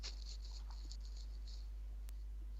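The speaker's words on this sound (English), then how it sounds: "Can you guys hear that rain?" Heavy rain falling outdoors, heard as a faint, steady hiss of patter with uneven bursts of drops, distant and muffled, with no talking.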